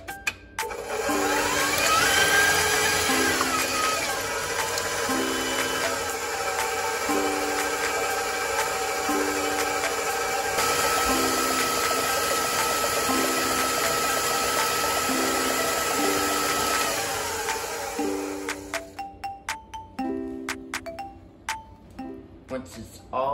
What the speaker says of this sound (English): Now, beat your wet ingredients together.